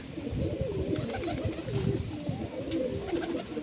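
Malwai pigeons coo in a steady, overlapping low burble, close and moderately quiet, with a few faint chirps above the continuous cooing.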